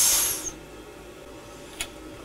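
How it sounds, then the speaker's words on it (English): A beer keg being cleaned vents its pressure in a short, loud hiss that cuts off after about half a second, followed by a quiet pause and one more brief hissing puff. "Let the pressure out."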